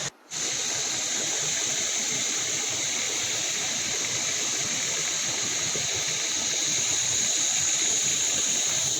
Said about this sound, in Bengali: নিচে দেখুন জল বেরোচ্ছে, এখানে গুনগুন করে জলের শব্দ হয়